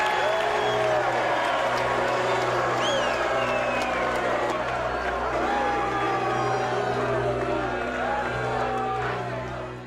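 Boxing crowd at Eubank vs Benn III roaring and chanting after the verdict, a steady, loud arena swell of massed voices with rising whoops, fading slightly at the end.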